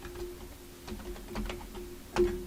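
Keys tapped on a computer keyboard in short, uneven bursts, with a firmer press near the end, close and clear with no talk.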